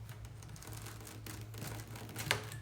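Scissors snip and crinkle through the thin plastic of a small Argo starch bottle, cutting off its top; soft close crackling and tearing noises, quiet and steady with a sharper snip near the end.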